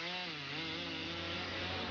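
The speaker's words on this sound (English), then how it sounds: "where a man's job and reputation depend on how well he wields a chainsaw" Chainsaw felling a tree during Tasmanian clear-fell logging, its two-stroke engine holding a steady, loud, buzzing whine throughout with a rasping cut into wood, close by and alone.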